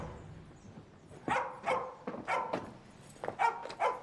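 A pet dog in a film barks in a run of about six short, sharp yaps and woofs spaced unevenly across a few seconds, fairly quiet and alone with no talk.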